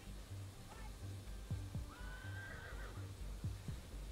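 In the Desperados III western game, a horse gives a clear whinny over steady hoofbeat clip-clops and a low ambient hum, moderately close and fairly quiet overall, with a voice faintly present.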